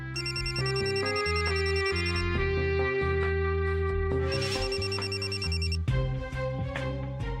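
A phone ringtone plays continuously, a bright electronic melody repeating over and over, close and loud, with no voices.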